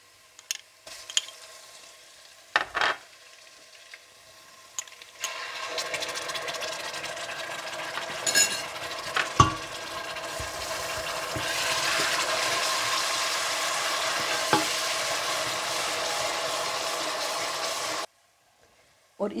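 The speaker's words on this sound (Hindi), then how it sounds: "आप इसमें पिसा हुआ अदरक लहसुन और हरी मिर्चें डालकर भून लें" Onions frying with ground ginger, garlic and green chilies added, a steady sizzle with occasional stirring clatter and sharp knocks, fairly quiet, ending abruptly.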